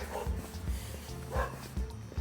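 A dog barks in a small town in New York State's Finger Lakes region early in the morning, several short bursts spaced through the moment, moderately near against an outdoor background.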